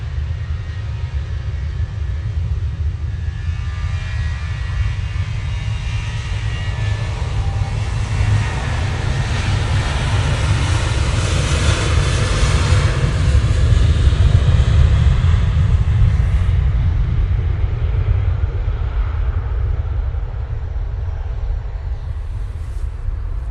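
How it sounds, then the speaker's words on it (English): A Boeing 737-800 jet takes off for Pisa, a deep sustained engine rumble that builds to a peak and slowly eases, heard from the airport perimeter without voices. "off to Pisa we go with this 737-800"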